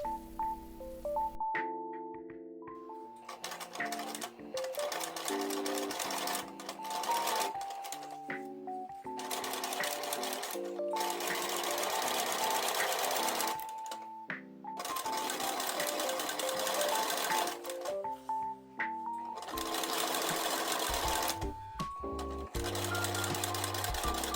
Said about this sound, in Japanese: 縫い代1センチで本縫いをします